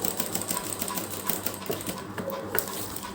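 A sewing machine stitches along a fabric strip for a trouser hem, giving a steady rapid mechanical clatter at close range with small clicks and knocks mixed in.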